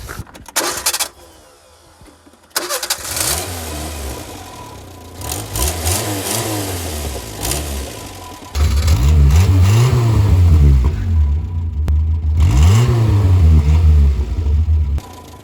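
A Renault 4L F6 engine cranks and starts, then revs repeatedly in rising and falling surges, loud and close, with a steady idle between bursts.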